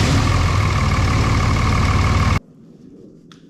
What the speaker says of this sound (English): Now we're going to start it, build some oil pressure,